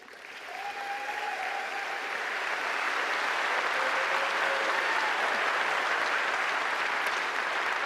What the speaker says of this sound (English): let's give our new cabinet ministers, parliamentary secretaries, and our entire UCP caucus a warm round of applause